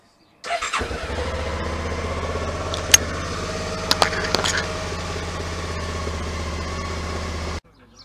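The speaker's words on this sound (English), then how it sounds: "start it up, let it idle, get it through the oil filter and everything" A Suzuki V-Strom 650 XT motorcycle engine starts and settles into a steady, loud idle after an oil and filter change, with a few sharp clicks or blips partway through and an abrupt cutoff near the end.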